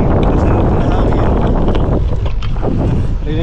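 Strong headwind buffeting the microphone on a ride with a view of Mt. Banahaw, a loud continuous rushing roar that dips slightly toward the end.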